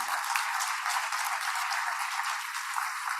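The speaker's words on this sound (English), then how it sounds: "if we can have a round of applause again for all of them." An awards ceremony audience applauds the recipients with a steady, even patter of clapping, moderately quiet and thin-sounding, continuous throughout with no talking.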